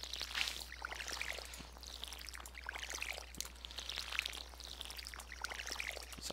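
Watering can pouring onto crops in Stardew Valley, a soft repeated splashing and trickling rhythm over a low steady hum, faint and with no voices.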